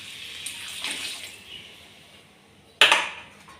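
Water splashes into a pot of washed bhagar (barnyard millet) rice for cooking, a soft trickle early on, then a sudden louder pour near the end that tapers off.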